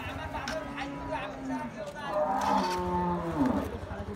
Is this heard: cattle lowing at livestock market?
yes